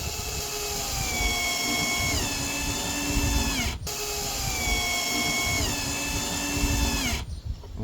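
Power screwdriver driving a screw into a plastic license plate holder on an Opel Corsa, two steady whining runs with the motor pitch dropping under load, a brief stop between them, then a click and quiet.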